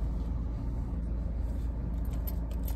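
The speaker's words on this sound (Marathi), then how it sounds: "चालू आहे पिल्ल्या गाडी" A car engine idles with the vehicle running, giving a steady low rumbling hum with faint rattles on top, heard close and continuous for a few seconds without speech.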